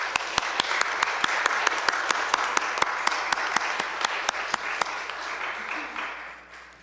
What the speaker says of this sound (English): Please, let's give a warm applause for it.